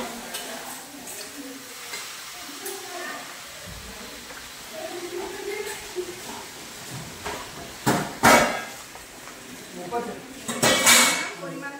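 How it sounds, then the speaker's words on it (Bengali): Mutton trotters dropped into a pan of lightly frying mutton for Bengali-style nehari, giving steady sizzling with stirring scrapes and a couple of louder pan clatters near the end. "মটনটা হালকা ভাজা ভাজা শুরু হয়েছে, এবার দিয়ে দিলাম তার পায়াগুলো"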